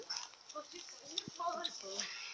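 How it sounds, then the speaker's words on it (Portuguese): A dog at close range gives short whimpers and yelps mixed with a quick bark, while people talk over it nearby. "Cachorro!"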